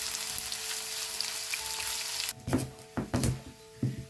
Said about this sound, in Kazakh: пиязымызды салып, қатты емес, кішкене тоқталып қуырып аламыз